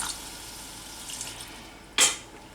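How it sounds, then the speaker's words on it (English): Water is splashed into a hot cooking pan with fresh salmon as a short, sharp burst of sizzle and splatter, following a quiet stretch of low kitchen noise. "I have to put a little bit of water."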